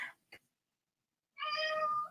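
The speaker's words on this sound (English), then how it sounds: "Can you hear my cat?" A cat meows nearby, a short chirp followed by a longer, clear tonal meow after a silent pause.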